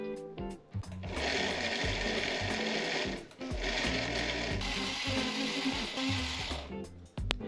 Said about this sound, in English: I had to switch to my spice grinder because the blender wasn't really doing the job